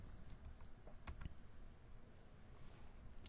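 Value typed on a computer keyboard in CAD software, a brief cluster of quiet close key clicks near the middle over a soft background hum, no talking.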